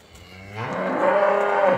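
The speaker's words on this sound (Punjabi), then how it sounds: "ਇੱਕ ਮੱਝ ਬੋਲੀ" A water buffalo gives one long, low moo that swells louder and holds, close by.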